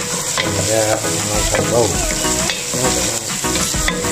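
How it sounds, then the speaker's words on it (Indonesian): Ingredients such as onion sautéed in a pan for a village chicken curry, with loud continuous sizzling and frying throughout, stirring clatter on top and a voice speaking briefly over the cooking. "Bahan-bahan tadi ditumis."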